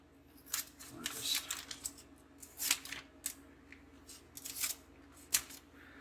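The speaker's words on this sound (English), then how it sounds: "I got my pair of scissors here. Make sure that we don't cut into the meal." Scissors snip open the outer pouch of an XMRE chicken creole meal in a run of short crisp cuts with crinkling packaging, sounding close and irregular.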